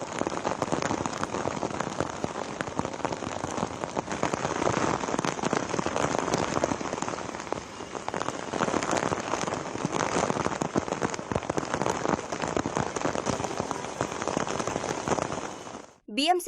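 Heavy rain pours down in Mumbai, a dense, steady crackling hiss of drops hitting surfaces that stays loud and unbroken for the whole stretch before cutting off abruptly at the end.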